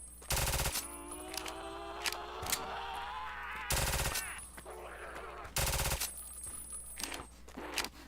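Three heavy, booming Silence 9 gunshots in a Doom game, spaced a couple of seconds apart, each loud and abrupt over a droning tonal background with scattered smaller clicks.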